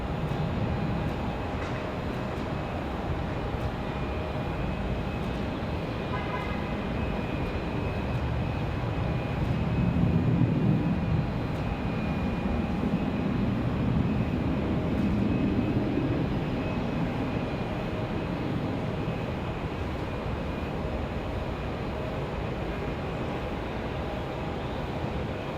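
A United airliner takes off from the runway at Raleigh-Durham International Airport on a windy day, its steady jet engine roar building and swelling midway, heard alone without talk.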